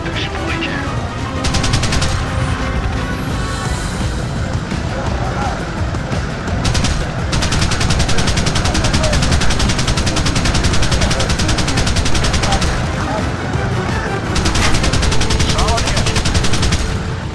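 Helicopter gunfire in the PS3 game Apache Air Assault: long, loud bursts of rapid machine-gun fire in several waves with brief lulls, over a constant engine and battle din.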